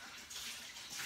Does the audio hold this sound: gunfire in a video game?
no